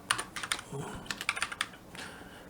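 Typing a formula into Google Sheets on a computer keyboard, with a quick series of crisp, close key clicks in uneven bursts and brief pauses between them.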